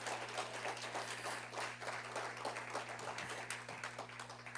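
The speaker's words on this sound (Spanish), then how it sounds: "Dele un aplauso al Señor, por favor." A church congregation applauding during a sermon, faint scattered clapping from a group heard at a distance over a steady electrical hum, with no break in the claps.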